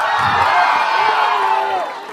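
A crowd cheers and whoops loudly and continuously throughout, an energetic roar from an audience at a film first-look launch event, fading slightly at the end.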